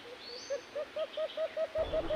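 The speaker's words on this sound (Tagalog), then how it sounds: "kung madinig nyo ay umuhuni yung alpas" Decoy jungle fowl (alpas) calling during a jungle fowl hunt: about nine short, evenly spaced call notes in a steady rhythm, fairly close and clear over quiet outdoor background, with a faint rising whistle early on.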